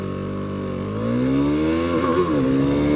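A 2022 KTM 390 Duke single-cylinder motorcycle engine idles and then revs up close and loud, its pitch rising and wavering as the throttle blips, with no talking.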